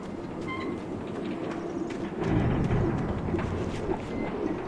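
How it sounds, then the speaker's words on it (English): A ghost train in the video game Alan Wake rumbles past with a steady low roar and rhythmic rail clatter, swelling louder midway and staying close and continuous to the end. "Oh my god, that's a ghost train."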